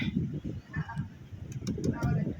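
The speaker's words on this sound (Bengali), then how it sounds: "কত পায়রা দিয়েছে" Pigeons cooing in soft, throaty repeated bursts close by, with a few faint chirps overhead.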